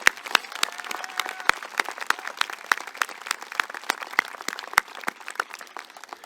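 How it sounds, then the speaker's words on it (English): Audience applause for the graduating class of 2022 at a technical school graduation ceremony, a steady wash of many hands clapping with sharp individual claps popping out, moderately distant and without talk. "Let's have another round of applause for the class of 2022."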